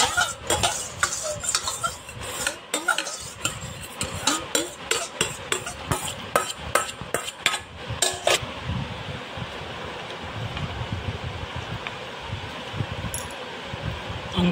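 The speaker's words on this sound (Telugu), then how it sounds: "ఈ గిన్నెలో కొద్దిగా వాటర్ వేసి కలుపుతూ ఉన్నాను." A spoon stirs water into a bowl of ash gourd buttermilk curry, giving repeated scraping clinks against the bowl in the first half. A quieter mechanical background hum follows, with a few isolated clicks.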